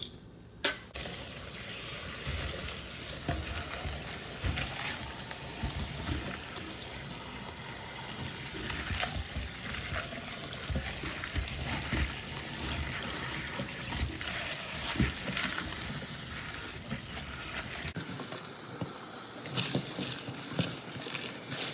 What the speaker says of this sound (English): give these beans a nice rinse